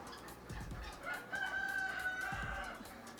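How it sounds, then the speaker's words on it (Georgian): Rooster crowing once at moderate distance at a bird market shed that also holds geese and turkeys, with soft clucks and ambient noise around it. "აი მე მესმის მამლის ყივილი"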